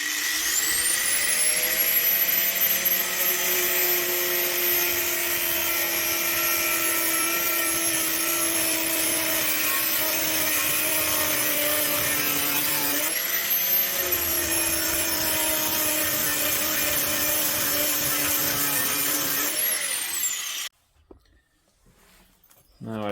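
An angle grinder cutting into a metal safe found in a dumpster, a loud continuous high whine with shifting pitch that dips and recovers midway, running about twenty seconds before cutting off abruptly.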